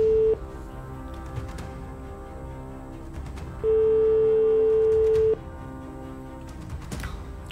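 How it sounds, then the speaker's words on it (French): Telephone ringing tone on a call placed during a televised SMS prize draw, heard as a steady electronic tone that sounds briefly at the start, returns for a longer ring, then stops over faint background noise. "Troisième sonnerie."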